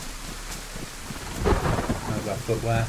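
Steady rain in the video game DayZ, on the Livonia map, with a deep rumble of thunder rolling in partway through, fairly close and full, no voices.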